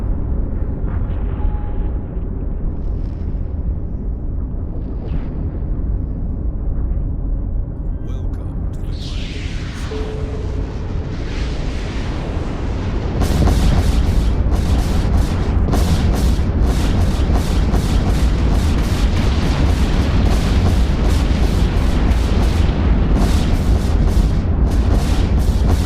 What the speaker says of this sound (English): Probably smart bombs going off or something.